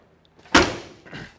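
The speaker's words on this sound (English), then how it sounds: "See how the door closes nice and flush to the rear quarter?" A 1970 Ford Mustang convertible door swings shut with one solid, close thud, followed by a short softer rattle and settle of the latch.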